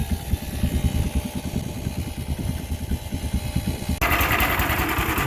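A small engine sputters and catches on the first cord pull with no choke after sitting overnight, an irregular chugging that abruptly steadies into a loud, even high-revving run near the end.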